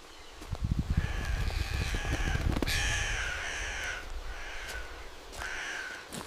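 Crows cawing in a forest, several harsh repeated caws from birds nearby and slightly apart, over soft rustling and low thumping movement.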